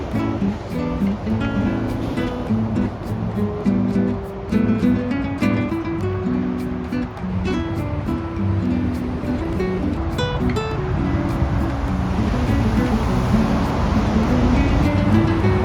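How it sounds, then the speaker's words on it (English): Traffic on Interstate 5 crosses a highway bridge overhead, heard from beneath it beside the water at Paradise Point State Park: a constant loud roar of vehicles punctuated by repeated sharp thumps as tires hit the deck. "It's underneath this bridge, which is making a lot of noise."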